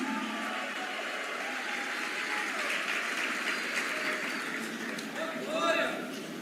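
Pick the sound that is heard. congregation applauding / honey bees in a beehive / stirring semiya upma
congregation applauding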